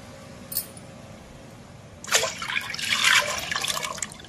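Milk poured into a pot for palathalikalu, a Telugu sweet. After a faint clink, a splashy liquid pour starts and keeps going to the end over quiet room hum.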